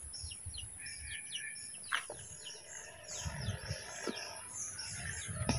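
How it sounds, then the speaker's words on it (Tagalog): Birds chirp and tweet around a farm hut in the countryside, with repeated short calls at moderate distance over quiet outdoor ambience and a few faint low rustles, and no one speaking. "Even the birds is coming in our kubo."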